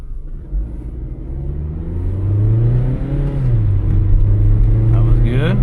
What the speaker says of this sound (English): Sounds like maybe there's a slight rear wheel bearing noise